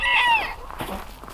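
A harsh, rising squawk from a chicken in the first half, followed by softer clucking and scratchy farmyard noises on a cold day.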